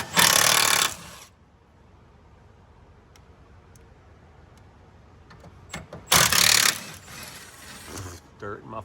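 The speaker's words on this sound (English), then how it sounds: "let's get this bracket removed" Two short, loud bursts of a power tool spinning out 13 mm bolts from an engine bracket on a Chevy Tahoe 5.3, separated by several seconds of quiet shop background with faint clicks and clanks.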